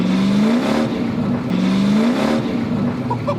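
A stock Chevy Camaro Z28 1LE race car engine of about 230 horsepower revs hard twice in loud, rising surges as the tires break loose, close and steady with no talk.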